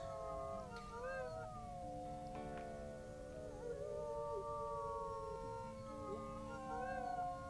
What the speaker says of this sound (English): they're gonna have to chance trying to take this over by doing a rally howl